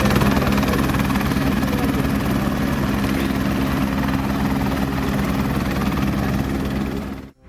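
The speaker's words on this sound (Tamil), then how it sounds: "இந்திய கேப்டன் ரோஹித் சர்மா ஹெலிகாப்டர் மூலம் தரம்சாலா சென்றடைந்த வீடியோ இணையத்தில் கவனம் பெற்றுள்ளது." A helicopter's steady rotor thump and engine drone, loud and close, holding constant before cutting off abruptly at the end, arriving at Dharamshala.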